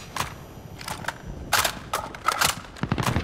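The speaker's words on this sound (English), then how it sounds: "Someone shot at me." Bursts of gunfire aimed at the player in a first-person shooter game, several short rapid volleys and single cracks at mid distance, separated by brief pauses.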